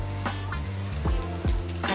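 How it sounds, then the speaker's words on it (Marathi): Fried capsicums sauté in masala on a hot tawa, a steady close sizzle broken by a few soft stirring scrapes. "आपण ज्या मिरच्या फ्राई केले होत्या त्या सर्व मिरच्या पुन्हा एकदा तव्यावर टाकून घ्यायचे आहेत आणि मसाल्यामध्ये थोड्याशा परतून घ्यायचे आहेत"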